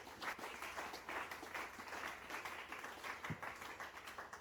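Church congregation applauding during a sermon, many hands clapping in a lively, uneven rhythm with rapid bursts, moderately distant and continuous, a faint voice briefly beneath it.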